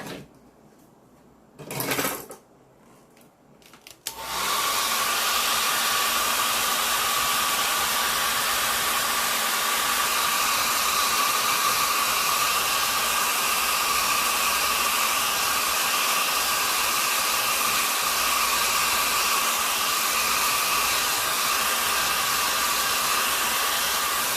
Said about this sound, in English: I think we will use a blow dryer, hair dryer.